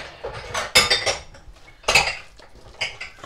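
Red velvet cake batter being mixed in a bowl, a utensil clinking and scraping against the sides in uneven bursts, close and fairly loud, no speech.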